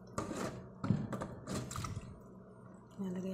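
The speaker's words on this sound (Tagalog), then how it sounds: "pinapalitan po natin ng tubig" Fresh water is poured over mung bean sprouts to change their water. Short, close splashing bursts come and go with brief pauses in between.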